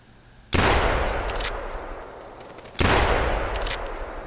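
Two loud, close hunting rifle shots in theHunter Classic, roughly two seconds apart, each a sharp crack followed by a long rolling echo decaying into quiet outdoor ambience.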